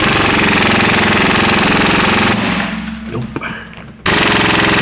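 An air impact gun hammers loudly during a Toyota Prius repair, a dense rattling burst that cuts out briefly, leaving a short spoken word amid quieter clatter, then roars again.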